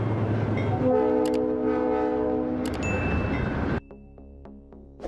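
A train runs through a snow-covered town in blizzard country, its horn sounding in long sustained harmonic blasts over a steady rumble of cars, then cutting off into quieter tonal squeals and clanks near the end.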